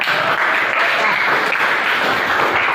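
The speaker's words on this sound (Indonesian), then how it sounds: "Tepuk tangan juga." Classroom applause from students after group presentations at a junior high school, dense steady clapping filling the whole stretch at close range, with no talk over it.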